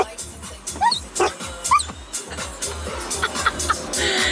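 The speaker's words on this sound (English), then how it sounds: "That's the signature, the bark with the squeaks." A dog barks in short bursts mixed with high, squeaky yelps, close by, with some background noise and faint voices.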